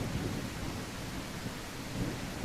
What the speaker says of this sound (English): this rain is so loud